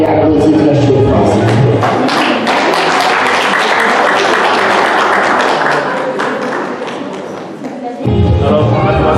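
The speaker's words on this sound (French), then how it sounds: "Et la famille applaudit très chaud." Family applauding warmly at a wedding vow renewal ceremony, loud, close, sustained clapping with voices mixed in, fading slightly before a sudden return to louder sound near the end.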